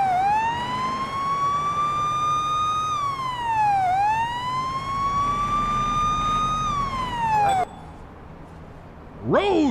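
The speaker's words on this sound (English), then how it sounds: "Siren. There's a siren." A police car siren wails in the Police Simulator video game, loud and close, sweeping up and down in long repeating cycles before cutting off abruptly, followed by a short rising whoop.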